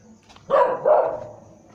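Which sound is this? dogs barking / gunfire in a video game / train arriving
dogs barking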